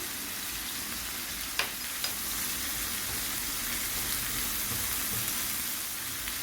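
Meat and garlic frying in a pan for onion dolma, a continuous even sizzle with a couple of sharp clinks early on, close and steady with no talking.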